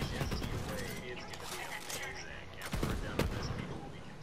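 Rapid, irregular gunfire from the Firecracker gun in Borderlands 3, with loud cracks over busy game action and a person speaking over the shooting.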